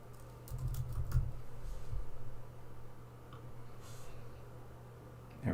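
Steady keystrokes on a computer keyboard, typed at a quick, uneven pace, close up and fairly clear, with a few louder clacks among the taps and no talking.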